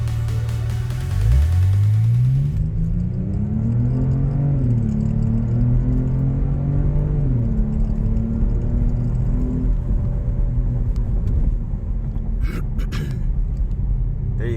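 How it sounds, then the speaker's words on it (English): In-cabin sound of a 2023 Genesis G80 fitted with downpipes and an aftermarket exhaust accelerating hard, a deep droning engine note rising steadily in pitch through the gears, loud and close, with brief clicks near the end. "this is an in-cabin pull, so you could know what it sounds like"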